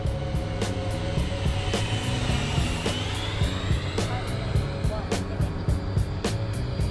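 A Freewing T-45 Goshawk 90mm RC jet plane makes a flyby, its ducted-fan whine sweeping through a pitch change as it passes, heard over steady background rumble and regular clicking pulses.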